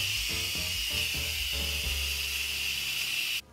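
A pressure cooker vents steam in a loud, steady hiss once its switch is flipped, with a low rumble beneath it that drops away sharply at the very end.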